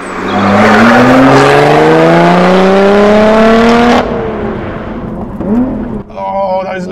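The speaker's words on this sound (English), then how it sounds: "the sound that the engine is making, it makes so much difference" A Lotus Evora 400 engine revs hard on the road, loud and close, with rising pitch over several seconds, a sharp drop at a gear change, then quick blips from downshifts.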